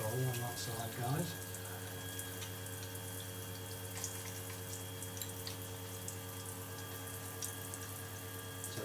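Water running steadily from a thermostatic shower mixer bar, a continuous hiss with a low steady hum, under brief talk at the start.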